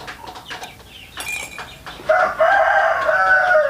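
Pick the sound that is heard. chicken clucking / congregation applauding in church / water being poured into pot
chicken clucking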